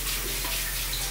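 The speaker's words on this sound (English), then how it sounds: "going to do is just wet my face with water." Tap water runs steadily into a sink as a face is wetted, a continuous close hiss with no talking.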